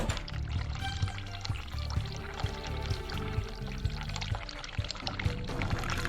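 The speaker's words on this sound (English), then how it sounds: "Run hot water." Hot water runs from a tap in The Cat Lady video game, a continuous splashing, pouring stream that stays loud and steady with no break and no talking.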